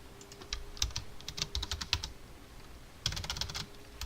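Typing on a new computer keyboard, irregular bursts of close, crisp key clicks in two clusters separated by a short pause, with no speech.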